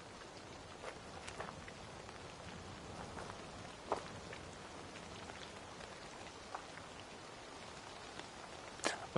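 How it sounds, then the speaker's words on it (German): Steady rain patters across a scene in Assassin's Creed Valhalla, a soft even wash with a few louder drops standing out. "Ob das Regenwetter Zufall ist oder bewusst in der Szene angefügt."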